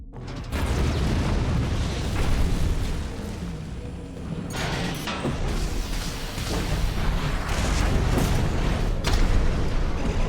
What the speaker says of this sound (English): instead of the shotgun, I'm gonna try the grenade launcher